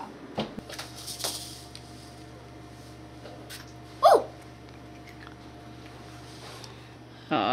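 A puppy yips and barks a few short times at a family Christmas gathering, mid-distance and fairly loud against a quiet room.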